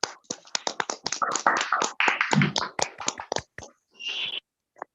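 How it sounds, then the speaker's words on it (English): Scattered hand claps from a few participants in an online webinar on auditing standards, sharp and uneven taps that come in quick bursts over about four seconds, then a softer hiss before falling silent. "We should have a round of applause for sir."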